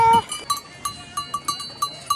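Sheep bleat repeatedly on a mountain, a series of short nasal calls roughly every quarter second, fairly close, with a sharp exclamation at the start and a faint bell-like tone in the background.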